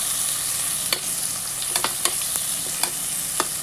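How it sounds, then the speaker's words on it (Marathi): Masala with turmeric sautéed in a hot pan for egg biryani, a steady bright sizzle with repeated spatula scrapes and taps tapping out an irregular stirring rhythm, close and alone. "आणि हळद टाकून देऊया. पुन्हा एकदा आपण असं मस्त परतून घेऊया."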